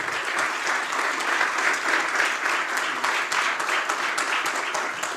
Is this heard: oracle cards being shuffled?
no